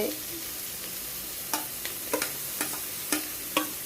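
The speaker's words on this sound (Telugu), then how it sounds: "క్యాప్సికమ్ వేసాము, కలుపుకోండి" Capsicum curry being stirred in a pan, a quiet continuous sizzle with a handful of spaced spoon clicks and scrapes against the metal, close by and without talk.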